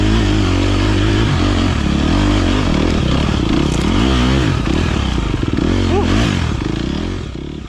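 Off-road dirt bike in an enduro race, engine loud and close throughout as it revs and labours up steep hills, with clattering and scraping over rough ground and rising, falling throttle surges.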